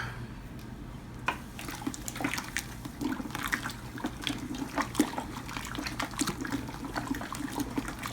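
Water sloshes and swirls as brewing grains are stirred into hot strike water, with irregular splashes and gurgles continuing steadily and fairly close.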